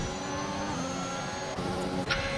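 Race car engine in a racing video game, a continuous loud mechanical drone with a brief dip and shift in pitch near the end, heard alone.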